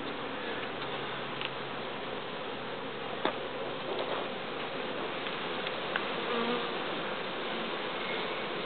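Honeybees buzz around a queen cage at the hive in a dense, continuous, close-up drone. The steady swarm hum is broken only by a few faint ticks and taps, with no voices.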